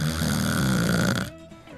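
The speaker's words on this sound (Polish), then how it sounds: "Jak możesz spać przy takim chrapaniu?" Cartoon snoring in a Barbie family cartoon, one long loud rasping snore that fills most of the moment before cutting off into a quieter breathy tail, alone with no talk.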